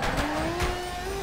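A Toyota JZX drift car near a wall, its tires squealing in a sustained high whine over the roaring engine at close range.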